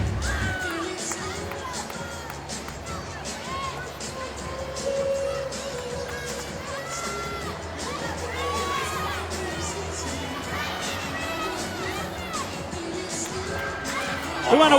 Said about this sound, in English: It's a great crowd on here at the Coleman Coliseum